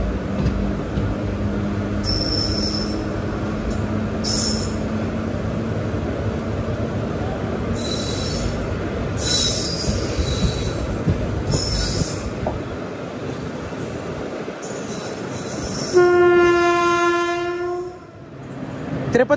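Tirupati-Villupuram Express running on a single-line track, with steady loud wheel-on-rail rumble throughout, repeated high wheel squeals, and a long horn blast near the end.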